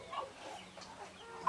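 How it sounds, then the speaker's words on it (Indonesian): Free-range village chickens clucking outdoors under overcast skies, a few faint, soft calls at a distance in a short, quiet stretch. "Peliharaan ayam kampung."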